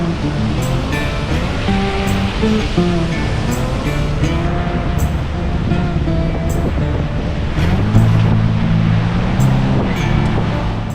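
Ocean waves surge into a beach rock pool, a steady, heavy wash of water with rumbling swells that grow louder near the end, continuous and close with no voices.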